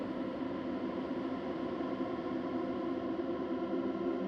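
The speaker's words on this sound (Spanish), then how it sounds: "se convirtió prácticamente en ruido blanco" Audio stretched into a smeared white-noise texture by the PaulXstretch plugin: a steady, dense wash of sustained hiss and blurred tones that stays constant and loud throughout, with no rhythm and no voices.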